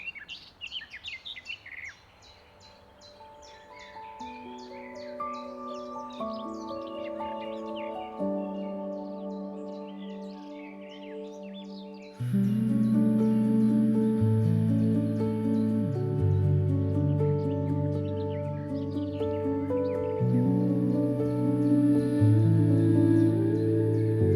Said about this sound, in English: Enjoy that beautiful sound of birds singing.